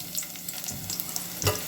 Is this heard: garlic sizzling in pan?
yes